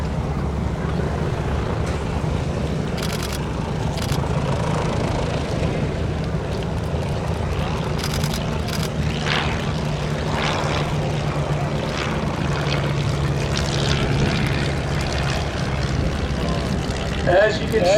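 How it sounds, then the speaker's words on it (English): Small vintage propeller planes with 4-cylinder air-cooled engines droning past at an air show during a WWII weekend in Reading, Pennsylvania, a constant loud engine hum with wind noise and someone talking over it. "They're powered by small 4-cylinder air-cooled engines."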